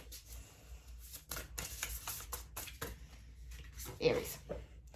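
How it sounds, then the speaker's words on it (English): A deck of tarot cards is shuffled close by in a quick, uneven series of riffles and soft slaps, with short bursts and pauses. The sounds are fairly quiet, and no one speaks. "Some days it feels like you shuffle forever."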